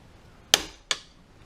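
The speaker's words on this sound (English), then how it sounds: "you're just going to squeeze it real tight and it's going to snap." Two sharp, close snaps about a third of a second apart as a part is squeezed tight with a tool and clicks into place during a River Raider limb riser install, with quiet between them.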